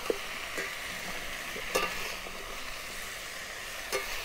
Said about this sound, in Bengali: এগুলোকে আমি এখন 5 মিনিট এইভাবে ভেজে নেব।